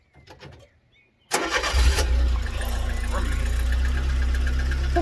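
A Citroen AX GT 16v catches abruptly on the starter after a quiet moment with voices, then settles into a loud, steady idle with a slight uneven knock, the small engine close by.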